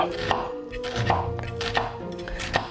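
A sharp kitchen knife finely chopping ingredients for Scottish skirlie stuffing on a board, a handful of crisp, rhythmic chops close by, with no talking.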